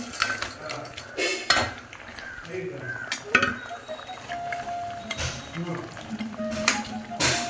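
Snakehead fish cooked village-style with mango and a pinch of sugar fry in a pan, a steady sizzle broken by repeated clinks and scrapes of a metal utensil against the pan.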